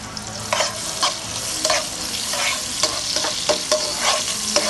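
Sliced onion frying in hot oil with cinnamon and cardamom for a white pulao, a steady close sizzle broken by repeated scraping stirs of a spoon in the pan.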